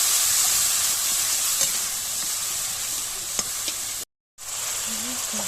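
Spice paste of chilli, turmeric and coriander powder with salt and fried onion sizzles steadily in a pan, with occasional scrapes of stirring and a brief dropout near the end.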